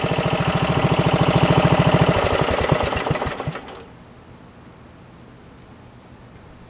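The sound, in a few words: riding mower engine starting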